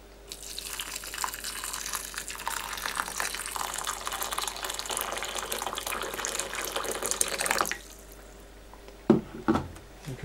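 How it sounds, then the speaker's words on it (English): Recently boiled water poured into a vessel to top up soaking bird's nest: a steady, close rushing pour lasting several seconds, then stopping, followed by a few brief clinks and knocks. "Now I'm going to top that up with some recently boiled water."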